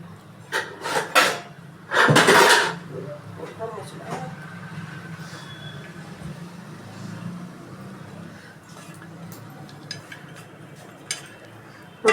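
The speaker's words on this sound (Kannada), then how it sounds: "ಈ ಬಬ್ಬಲ್ಸ್ ಬಂದಮೇಲೆ ಕುಕ್ಕರ್ ಮುಚ್ಚಳ ಹಾಕ್ಬಿಟ್ರಿ" A pressure cooker lid is set onto the cooker while making mushroom pulao, a brief loud metallic clatter and scrape early on, followed by quieter kitchen handling sounds as someone talks.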